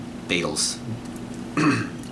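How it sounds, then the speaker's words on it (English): A voice with a couple of short burps breaking through as he speaks. "I was trying to battle the burping"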